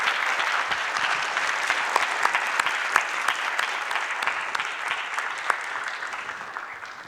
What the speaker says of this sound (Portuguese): Queria pedir agora uma salva de palmas para o professor.